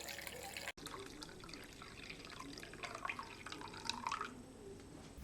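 About 900 ml of water for sourdough bread dough is poured steadily into a jug, giving a continuous close trickle and splash with rising bubbly detail and no talk.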